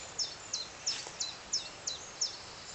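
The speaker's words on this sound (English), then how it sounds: "blue tits and the wren and that in" A bird repeats a sharp, high two-part call about every third of a second, seven times, fairly close over faint woodland hiss.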